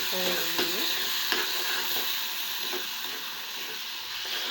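Chopped tomatoes sizzle and fry in a pan for a fish curry, with a steady hiss, a few scraping stirs of a spoon, and no talking.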